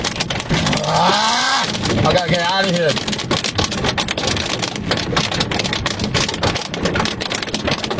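Heavy rain and hail pound down in a severe storm on Skyline near Rapid City, a loud steady roar with someone talking over it early on before the downpour continues alone.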